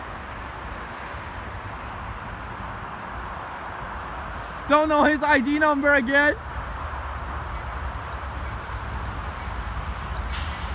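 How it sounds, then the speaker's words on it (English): A CN eastbound freight train rolls past on the Kingston Subdivision near Pickering, producing a steady, broad rumble throughout, with a short stretch of nearby talking in the middle. "We got a freight train coming down to York."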